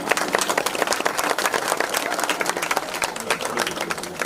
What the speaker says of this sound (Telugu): కొట్టండి, చప్పట్లు కొట్టండి అందరూ